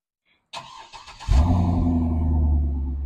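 A starter whirs briefly, then a stock Chevrolet Corvette engine catches with a loud roar and settles into a deep, rumbling idle close by.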